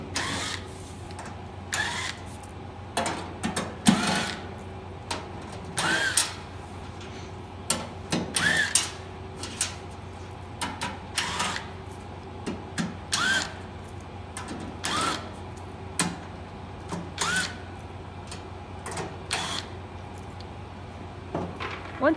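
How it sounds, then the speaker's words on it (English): Top bolts come off a compressor with an 8mm socket, making repeated ratcheting clicks and short whirring tool bursts over a steady low background hum, close up, with no talking. "We're going to take an 8mm socket to take these off."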